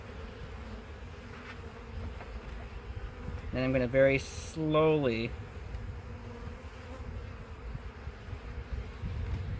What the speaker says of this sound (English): there's going to be bees on here